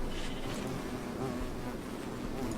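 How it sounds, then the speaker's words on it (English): Bees buzzing around an apiary beehive in modded Minecraft, a steady, faint droning hum that continues without pause. "this is my little apiary beehive collection here. Had a bunch of bees"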